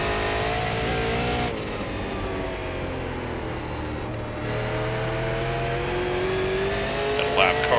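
A late model race car engine in iRacing drones steadily at speed and then climbs in pitch as the throttle opens, with a brief lift partway through, loud and close for the whole stretch.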